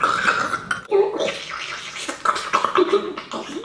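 A voice imitates the crunch of a cockroach's exoskeleton breaking, with wet, gargly, gritty mouth noises in uneven bursts, close and fairly loud.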